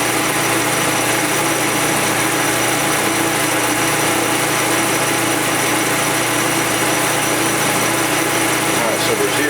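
A metal lathe runs steadily close by, a loud, continuous mechanical whir and hum that holds an even pitch throughout with no pauses.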